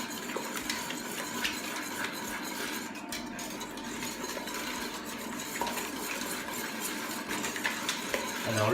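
Scrambled eggs stirred in a pan produce quiet scraping and clinking of a utensil against the pan in a steady back-and-forth, with a faint sizzle underneath.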